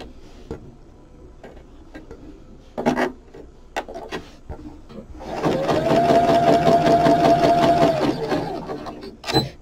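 A sewing machine stitching through a journal spine in a craft room, a close rapid mechanical whirring run of about three seconds after scattered handling clicks and rustles.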